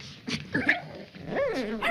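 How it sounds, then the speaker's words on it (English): A dog barks in short, sharp bursts with yips and whimpering tones, several close, loud calls in quick succession. "dog,"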